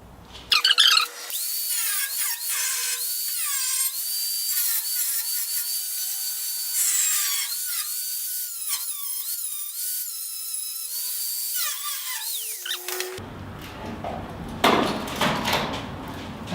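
A wire wheel on a power tool works over the rusty metal of a 240Z car frame, a loud, steady whirring grind with shifting pitch that lasts about twelve seconds, then gives way to scraping and clatter. There is no talk.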